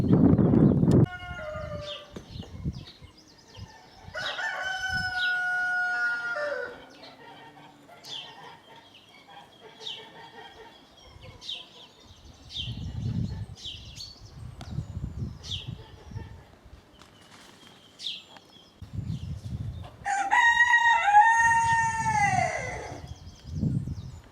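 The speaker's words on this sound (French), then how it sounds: "Ici, un très vieux coq phénix argenté." An old silver Phoenix rooster crows in harsh bursts near the start and again near the end, while other chickens cluck and call softly in the pauses between, with low bumps of movement at the start.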